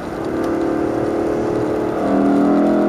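A Lexus LC500 V8 engine runs loudly throughout on a wet circuit with a steady low rumble, rising in pitch and intensity near the end as it revs.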